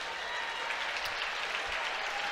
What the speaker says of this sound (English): Ethan Cruz gets a warm round of applause from the crew